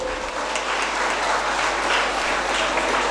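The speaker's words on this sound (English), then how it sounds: "I would like you to give a round of applause, dear students, to the dear parents" Dense, steady applause from a large audience at a college graduation ceremony, loud and continuous throughout with no voices.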